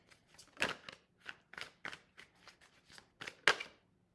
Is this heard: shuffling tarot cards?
yes